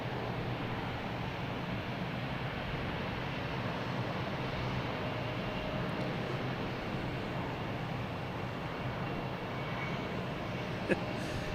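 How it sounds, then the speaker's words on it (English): An American Airlines Embraer E175 jet departs Boston Logan, its engines a steady, broad roar that holds evenly at moderate distance for the whole stretch, with a brief faint click near the end. "we have an American Airlines heading to Columbus, flight 4641, E175"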